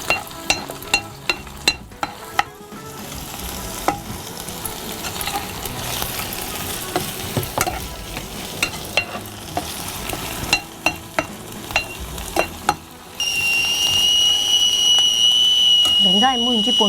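Onions sizzle in a pan with ginger garlic paste for paneer momos, a constant frying hiss broken by scraping stirs of the spoon, while people talk over the cooking.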